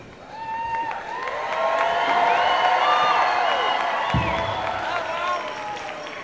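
Crowd at a Seminole powwow cheering, whooping and shouting, with some clapping. The noise swells into a loud, sustained roar of many voices that carries through to the end.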